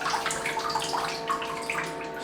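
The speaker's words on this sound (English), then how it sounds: "Just try and drain as much of the water that I can." Water drips and trickles as a shaving brush is drained over a bathroom sink, a close, continuous splashy patter lasting a couple of seconds.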